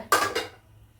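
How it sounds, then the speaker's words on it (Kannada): A single metallic clunk of a pressure cooker set down on a stove, followed by a short second knock and a fading ring. "ಕುಕ್ಕರ್ ಇಡ್ತಾ ಇದ್ದೀನಿ"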